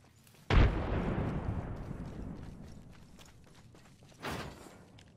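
A frag grenade detonates in Apex Legends with one loud, close blast that rumbles and decays over several seconds, followed by a smaller second burst near the end.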